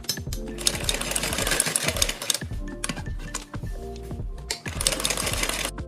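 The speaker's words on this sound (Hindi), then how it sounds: "एक सिलाई अब यहाँ पर बिल्कुल इसके किनारे किनारे पर लगाएंगे बाहर की साइड" A sewing machine stitches along the outer edge of a matka-style neckline, running in loud, steady bursts of rapid mechanical clatter with short pauses between runs, close up and alone.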